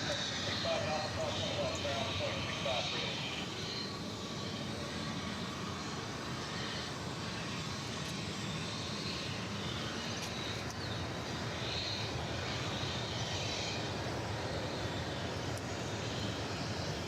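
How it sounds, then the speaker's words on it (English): Passenger plane arriving from El Paso at Dallas Fort Worth Airport, a continuous broad engine roar holding steady at a distance, with tower radio chatter in the background. "Here's that flight from El Paso that we spoke about just a few moments ago."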